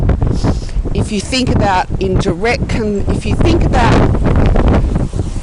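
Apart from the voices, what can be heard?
strong wind blowing into microphone outdoors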